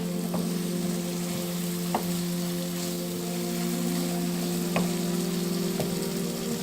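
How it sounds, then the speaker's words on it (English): Spices fry in a pan over medium heat, a steady close sizzle running the whole time with a few soft clicks of stirring. "just leave it on a medium heat so that it doesn't burn the spices too much"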